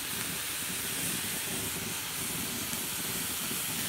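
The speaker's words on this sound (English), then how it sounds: "add some soy sauce and ginger into the pot and stir that around" Soy sauce and ginger added to a hot pot of bok choy: a steady, close, loud sizzling hiss that continues evenly throughout without talk.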